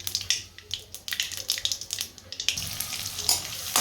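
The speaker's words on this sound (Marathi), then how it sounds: "आता मटार उडती म्हणून त्यावर झाकण ठेवते लगेच, नाही तर मटार सगळीकडे उडते." Green peas pop and spatter in a hot pan while poha is being made, a crackling sizzle with sharp irregular pops close by and no voices.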